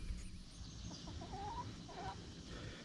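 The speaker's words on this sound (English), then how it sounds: "So we moved our chickens back here up against the tree line." Chickens cluck softly in short, scattered bursts over steady outdoor background noise, kept near a tree line on a rural property.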